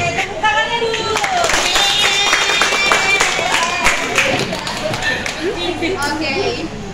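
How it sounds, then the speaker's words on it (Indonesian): A classroom audience claps after a role play reenacting the Indonesian independence proclamation, scattered close handclaps over lively chatter and speech throughout. "Oke, tepuk tangannya dulu."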